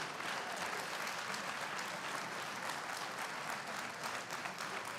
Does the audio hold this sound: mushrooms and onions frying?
no